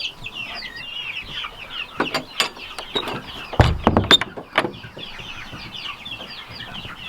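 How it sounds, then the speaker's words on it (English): A black copper Marans rooster and chickens in a coop cluck and chatter, with soft background calls and a cluster of louder squawks in the middle, close by. "This is Rusty, our black copper Moran rooster"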